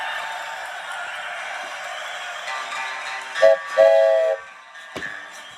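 A train whistle sounds over a steady rumbling train, with two short bursts close together near the end and a faint tail after them.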